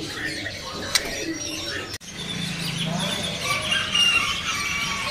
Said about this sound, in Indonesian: Ini ada burung murai